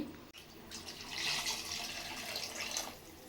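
Water pours steadily into a cooking pot of chicken biryani with a bright, splashing rush, close and fairly loud, with no talking.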